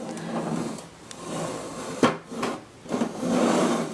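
A plastic drawer organizer is set down and shifted on a table, giving a few close knocks and scraping sounds, one sharper clack midway.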